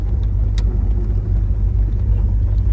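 A 1972 Oldsmobile 442 convertible with a 455 V8 driving slowly through a roadside park, a loud steady low engine rumble heard from inside, no talking.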